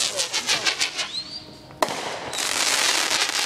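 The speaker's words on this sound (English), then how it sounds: "I'm really thanking China for these awesome fireworks right now" Independence Day home fireworks bursting close by, a rapid crackling string of bangs, a rising whistle, then a sharp loud blast followed by a sustained dense crackle.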